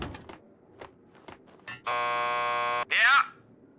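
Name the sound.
door buzzer at police station lockup in Max Payne 2 video game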